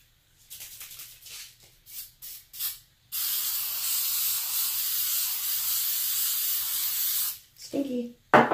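A spray can nozzle hisses in one steady burst of about four seconds, preceded by a few short clicks and taps and followed by light handling noise. The spray is close and fairly loud, with no talking over it.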